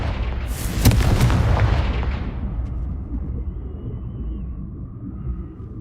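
Blasting spell explosions in the Hogwarts Legacy video game: a loud burst of booming blasts and crackling debris in the first two seconds, trailing off into a low rumbling tail.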